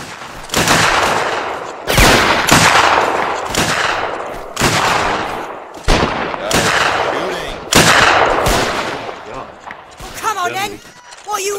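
Heavy, repeated gunfire in a Mount & Blade battle set in the Anglo-Boer War, with loud volleys and bursts following one another closely, over rolling battle noise and voices talking.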